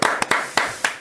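A handful of people clap to welcome a guest professor onto a talk programme in a small studio. It is a brief, close scatter of about five crisp, separate claps within a second.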